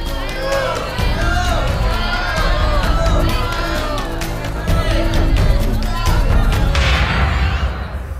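A studio audience at a game show reacts with loud crowd noise, cheering and whoops that continue throughout, with thuds and shouted voices mixed in.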